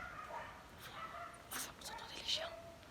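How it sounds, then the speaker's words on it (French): Dogs bark and yip somewhere near a cave entrance, sharp intermittent barks over faint background noise, with someone speaking quietly now and then. "Vous entendez les chiens? Vous les entendez?"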